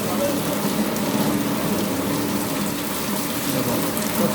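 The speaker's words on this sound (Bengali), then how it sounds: "দেখুন প্রচুর বৃষ্টি হয়।" Heavy rain pours steadily in Jamgora Mollah Bazar, Ashulia, Dhaka, a dense, continuous broadband hiss of water drumming on surfaces, loud and unbroken with no voices.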